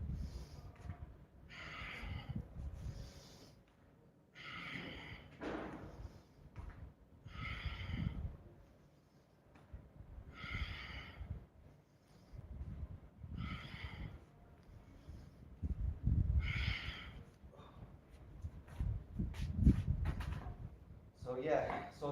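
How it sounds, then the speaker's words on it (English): Rhythmic deep breathing during a home steel mace workout, with repeated forceful inhales and exhales at a steady pace, close and fairly loud, with some talk mixed in. "you just need to breathe correctly. Inhale."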